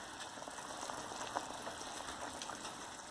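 A pot of Patodyachi aamti, a besan-dumpling masala curry, bubbling steadily on the stove, a faint, close, continuous soft popping and simmering with no voices.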